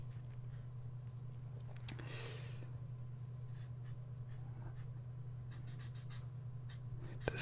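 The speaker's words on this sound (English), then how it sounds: "I'm gonna write some girls' names." A pen scratches across paper while girls' names are written by hand, faint and close, over a low steady electrical hum with a brief rustle partway through.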